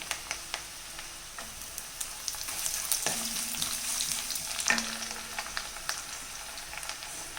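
Garlic tossed into a pan of frying coconut pieces, a quiet crackling sizzle with small ticks of a spoon and a brief louder burst as the garlic goes in, no voices.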